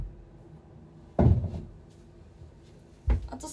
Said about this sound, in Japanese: ちょっとドア一回開けるわ